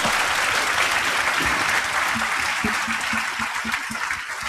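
A seated crowd at an exam strategy seminar breaks into loud, dense applause that fills the whole stretch, with a few distinct nearby claps standing out as it gradually tapers slightly toward the end.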